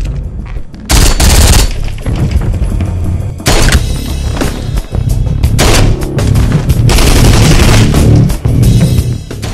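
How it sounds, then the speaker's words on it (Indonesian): Loud bursts of gunfire from an action film crack out in several rapid volleys separated by short pauses, with heavy impacts and no voices. "Sorter harus tewas akibat salah satu anak buah Dorothy yang melepaskan peluru dari arah belakang"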